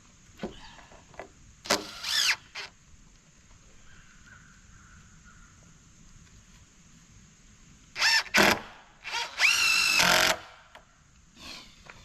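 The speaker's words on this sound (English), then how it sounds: "I'll put the second screws in once I get the top piece in." Screws being driven into the wooden frame of a chicken tractor outdoors with a power drill, heard as short whirring bursts, a couple early on and a longer cluster near the end, over faint background noise.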